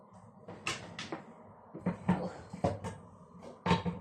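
A cupboard door fitted with a tiny door closer shuts several times in a kitchen, each close making a soft thud and click, with quiet handling noise between them.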